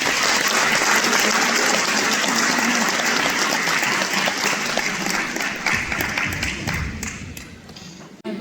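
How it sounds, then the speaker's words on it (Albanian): An audience claps in sustained applause at an Albanian news event, dense and fairly loud at first, then gradually thinning out and fading before a final burst. "Dhe për këto do doja që merrja një duartrokitje nga të gjithë."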